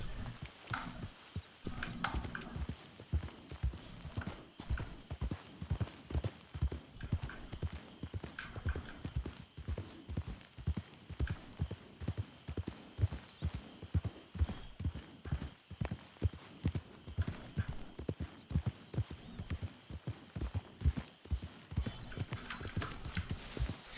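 Horse hooves clip-clop in a steady, rhythmic trot throughout a ride in the video game Red Dead Redemption 2, close and even, with no talking over them.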